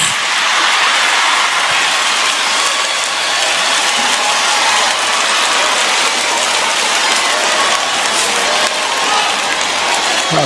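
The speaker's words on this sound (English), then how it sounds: "Crowd gets hyped" A church congregation cheers and applauds in a dense, loud wash of clapping and crowd noise that stays steady and unbroken throughout.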